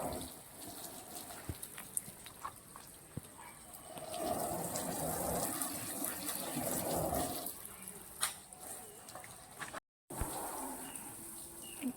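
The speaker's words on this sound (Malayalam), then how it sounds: "അച്ഛൻ അവിടെ നിന്ന് വെള്ളം ഒഴിക്കുന്നുണ്ട് ഓസും കൊണ്ട്" Water gushes from a hose over an auto-rickshaw during a wash, a steady splashing spray that swells in the middle and runs on without talk.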